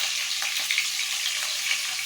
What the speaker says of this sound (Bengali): আমি পনিরটা ভাজা হোক ততক্ষণ আমি মশলাটা বানিয়ে নিই